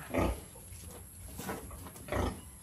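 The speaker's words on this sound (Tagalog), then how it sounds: "Ayan po ang ating mga baboy, guys." Pigs grunt and snort in pens on a rural Philippine farm, with several low, rough grunts in separate bursts over a steady outdoor hiss.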